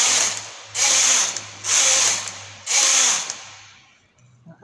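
A knitting machine carriage drawn across the needle bed for rows of a romper, making three loud mechanical whirring passes of about a second each, separated by short pauses and ending in quieter clicks.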